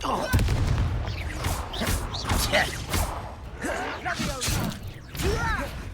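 Confringo fire spell in the Hogwarts Legacy video game, bursts of explosive booms and crackling blasts in quick succession amid battle noise, with a player's voice talking over it.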